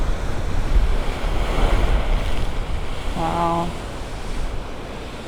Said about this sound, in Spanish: Un geyser que sí está erupcionando.